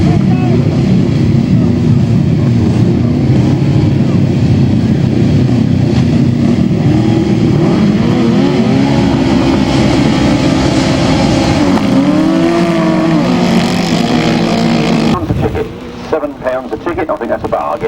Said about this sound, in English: The left-hand side cars are underway here at G.T.S.A.